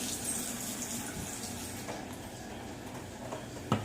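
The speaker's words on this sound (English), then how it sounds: "Turn on the water, fill it up." Tap water runs steadily into a bottle being filled for a water tornado experiment, a continuous close rushing hiss with a brief knock near the end.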